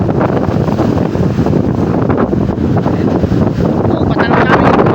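Strong wind and big sea waves at sea, heard from aboard a fishing boat out after yellowfin tuna; loud, steady rush and buffeting with surf washing continuously throughout, no voices.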